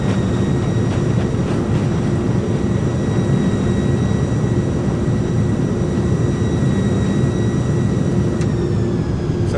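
Jet thrust reversers roar on landing in Microsoft Flight Simulator, a loud, steady engine rush that holds without a break for the whole stretch.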